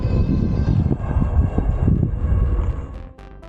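OneBot S2 Mini electric bike riding on throttle only at power level 3, a steady loud rush of wind and motor drone that drops away near the end, with no talking.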